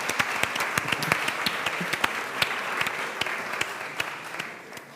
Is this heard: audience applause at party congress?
yes